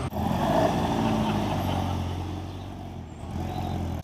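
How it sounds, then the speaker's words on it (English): A classic MG with a V8 engine idles and burbles nearby at a car meet outside a bikers' cafe, a deep, steady, throaty rumble with slight swells in revs. "That V8 MG sounds so good."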